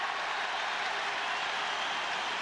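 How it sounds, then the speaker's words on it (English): Stadium crowd at the 2002 All-Ireland Hurling Final between Kilkenny and Clare, a steady, broad roar of cheering and applause at a moderate distance, continuous without a break. "Just listen to the cheer."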